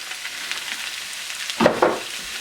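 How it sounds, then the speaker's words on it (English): Vegetables for kung pao chicken stir-fry in hot oil over medium heat with a close, steady sizzle, and a brief knock of the utensil against the pan near the end. "We're just going to stir fry these a little bit, get them covered with a little bit of that oil"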